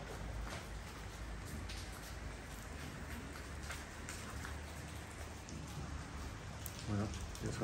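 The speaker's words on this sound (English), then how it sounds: "Bit of a rainy start here today." Rain falling in Shkodër, Albania, a steady close patter of drops on surfaces with scattered sharper drips, continuous and even throughout.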